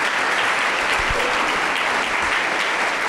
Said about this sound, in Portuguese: Você pode dar uma salva de palmas de gratidão a Jesus?